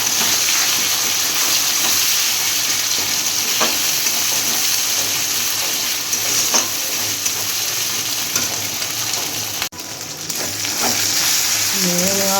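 Chopped tomato and green chillies frying in a pan give a loud, continuous sizzle, broken by occasional stirring scrapes throughout.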